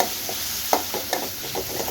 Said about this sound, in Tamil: இப்போ பொடியாக கட் பண்ணி வச்சுருக்கேன் தக்காளி சேர்த்துக்கிறேன்